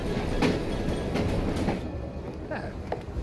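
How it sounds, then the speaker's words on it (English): A steam-era train rolls along in the video game Assassin's Creed Syndicate, a steady rumbling clickety-clack of wheels on rails that stays loud and continuous for a few seconds. "at least we have a train now"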